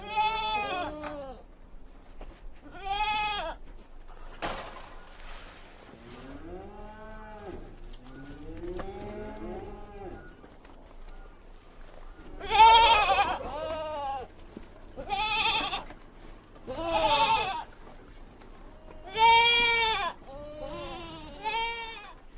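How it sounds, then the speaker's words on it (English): Goat bleating sound effect, a run of loud wavering bleats and moo-like calls in irregular bursts over about twenty seconds, with brief gaps between and no talk over them. "is it me or GOAT sounding mad crazy?"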